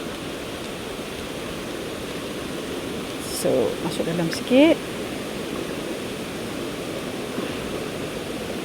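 Steady rushing of flowing river water at Bukit Bertenggek, Kuala Kubu Bharu, Malaysia, fills the scene, constant and fairly near, with someone briefly speaking over it midway.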